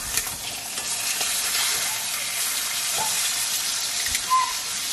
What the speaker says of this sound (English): these pork chops are just heating up because of how hot the cast iron is